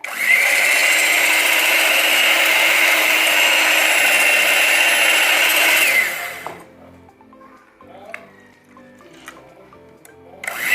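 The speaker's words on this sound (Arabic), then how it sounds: "غنبقى نزيد غير بشويه وانا كنطرب بالطراب الكهربائي" An electric whisk beats half a litre of boiled, slightly cooled milk, whirring loud and steady with a high motor whine for about six seconds, then cutting off to quiet clinks and faint rattles.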